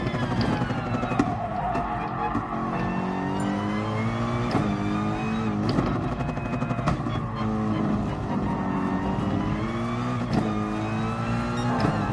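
Engine of a race car lapping a track in Gran Turismo Sport, loud and continuous, climbing in pitch through repeated upshifts and falling back under braking, with light tire squeal.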